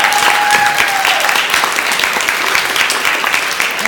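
An audience at a ClexaCon 2018 convention panel applauds and cheers in a dense, continuous wash of clapping, with a few whoops rising above it.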